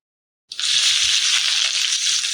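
A banana leaf parcel of parotta is set into hot oil in a pan, setting off a sudden loud, steady sizzle that starts abruptly and carries on strongly without pause, with no voices.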